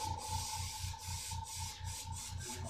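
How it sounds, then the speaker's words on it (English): Spray paint hisses in short rhythmic bursts as colour is misted onto artificial taxidermy parts, a steady pulsing spray close by with no talking. "I'm going to spray this out just a little bit. Make sure everything's spraying really well."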